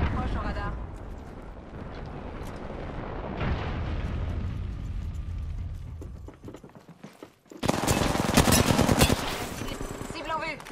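Battle-royale gunfire in Apex Legends, bursts of rapid shots and blasts with a loud dense volley near the end, mixed with game noise and a voice talking.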